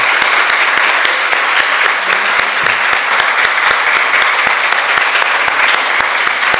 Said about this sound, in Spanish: Muchísimas gracias y un fuerte aplauso